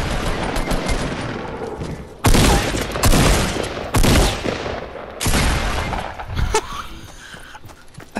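Rapid gunfire from a Fortnite match, loud bursts of fusillade in several heavy clusters with shorter volleys between, close and dominant with no talk over it.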